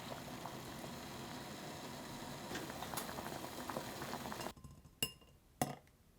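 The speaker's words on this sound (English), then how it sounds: "Boiling water with a little salt until the color brightens." A steady bubbling, rolling boil of lightly salted water in a pot for several seconds, then it quiets and a couple of sharp clinks ring out near the end.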